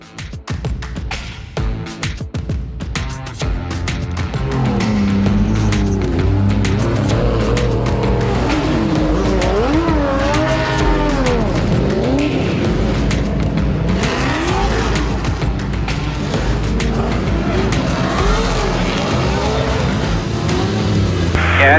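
A 1,000 wheel horsepower 2JZ-engined Formula Drift car in New Jersey roars and revs hard during qualifying, with screeching tire squeals as it drifts, loud and sustained throughout.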